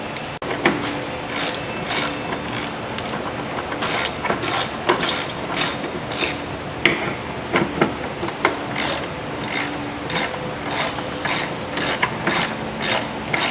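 A ratchet snugs up 17 mm bolts on the rusty rear control arm of a 2007-2011 Honda CR-V, giving a loud, close run of steady clicking strokes in repeated bursts with no talking.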